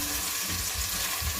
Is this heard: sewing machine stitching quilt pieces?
no